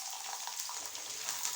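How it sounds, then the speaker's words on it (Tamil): Hot oil sizzles and crackles steadily as sago fryums fry, a close, continuous hiss with fine popping, no voices. "இப்போது இந்த வடவத்தை பாருங்கள் எப்படி பொரிக்கிறேன்னு."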